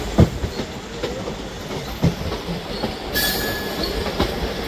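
Howrah Bardhaman local train running on rails, heard from onboard a passing express: continuous loud rumble with rhythmic clickety-clack wheel beats and a brief metallic squeal, no voices.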